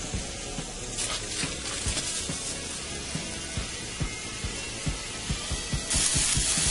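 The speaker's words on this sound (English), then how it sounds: "Hear frying sounds now." Pork chops sizzle in a hot grill pan, a steady loud hiss with sharp pops and crackles repeating throughout, growing denser toward the end.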